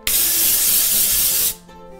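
A single steady hiss from an aerosol texture spray sprayed onto hair, loud and close, lasting about a second and a half before cutting off.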